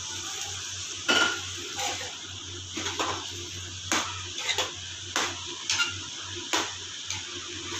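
Metal spoon scrapes and taps in a cooking pot while lemon rice is stirred, giving a series of sharp, irregular clinks over a low steady hum, close and moderately loud with no talking.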